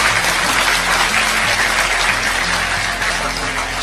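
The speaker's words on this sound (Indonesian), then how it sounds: "tepuk tangan untuk Allah Subhanahu wa taala" A religious gathering's audience claps together in a dense, steady burst that stays loud and even for a few seconds.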